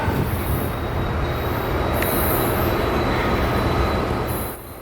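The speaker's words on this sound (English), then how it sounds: "Finally, my train arrives." A Coaster commuter train of Bombardier multi-level coaches pulls into Solana Beach station, a loud, steady rumble of rolling cars with high metallic wheel squeal rising over it, no voices.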